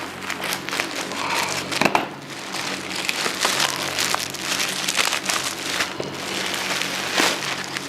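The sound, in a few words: plastic package from online shop being opened for unboxing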